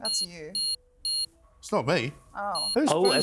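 A mobile phone alarm on a table sounds several short, bright, evenly spaced beeps, mostly in the first second. People talk over and after it.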